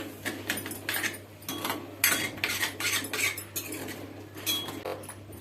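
A spoon scrapes and clinks against a metal pot while milk kheer with condensed milk is stirred, rhythmic close metallic strokes with no talk.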